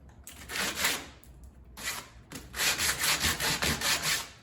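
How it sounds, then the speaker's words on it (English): Sandpaper rubbed over a wooden workbench in several close, raspy strokes, with short pauses between bursts and a quicker, steadier run of strokes toward the end. "Clean it up with some sandpaper."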